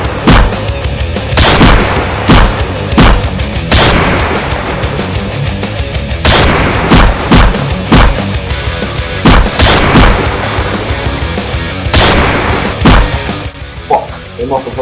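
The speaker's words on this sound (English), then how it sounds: "Must have heard the shots." Heavy gunfire fills a Garry's Mod game scene, with loud repeated shots and booming bursts, some in rapid strings, continuing almost throughout.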